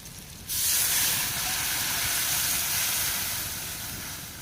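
Rice wash water is poured into garlic and onion sautéing in a hot pan, and a loud, close, steady hiss and sizzle of steam bursts up at once and holds, easing only slightly.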